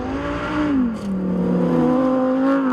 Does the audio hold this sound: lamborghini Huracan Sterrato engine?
yes